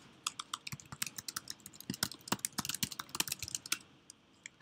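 Code is typed on a computer keyboard in a lecture setting, with quick, close, uneven clicks that grow denser into a fast run of keystrokes before stopping near the end.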